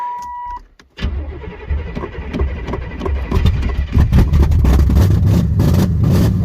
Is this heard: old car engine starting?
yes